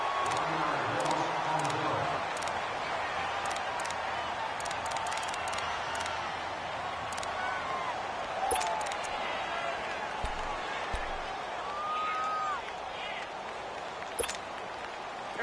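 Stadium crowd noise in an American football video game, a steady broad roar swelling ahead of a big third down, with faint whistles and bumps over it and a commentator talking throughout.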